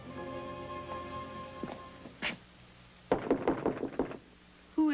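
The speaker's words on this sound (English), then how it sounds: "I knew I'd tapped the right door." Knocks on a door in an alley-side club setting land in a quick cluster of about five sharp raps, preceded by a fainter earlier tap, with a soft humming tone under the opening seconds.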